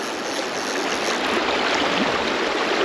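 Fast-flowing river water rushes steadily around a fly angler nymphing for brown trout, a dense, even wash that stays loud and close with no break.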